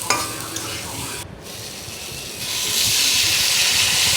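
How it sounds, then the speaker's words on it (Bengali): Chillies, spices and salt sauté in a pan with a steady hiss that briefly drops out, then swells louder and brighter as stirring continues, with no talk. "একটু এগুলো ভালোভাবে ভেজে নেব"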